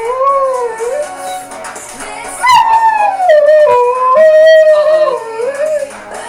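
A dog howls loudly and close, long wavering tones sliding up and down in pitch, breaking briefly midway before resuming in sustained wails.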